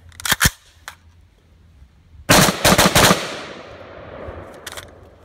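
Rifle fired with a Franklin Armory BFS3 binary trigger: a quick pair of loud, sharp shots, then after a pause a rapid cluster of several close shots with a long, fading echo trailing off, no talking.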